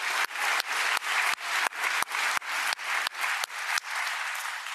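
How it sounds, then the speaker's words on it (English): An audience claps steadily, a dense wash of hand claps that holds at a fairly even level throughout before easing off slightly at the end. "how about a hand applause for"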